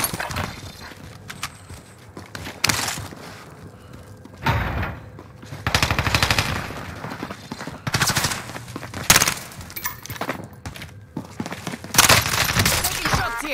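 Close bursts of automatic gunfire from M4A1 and CX-9 weapons on Warzone's Rebirth Island, sharp rattling volleys separated by short pauses, with game sounds in between.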